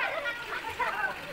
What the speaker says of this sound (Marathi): बघा, मस्त तेल उकळतंय।